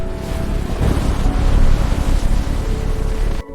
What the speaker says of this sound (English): 20-foot waves pound the hull.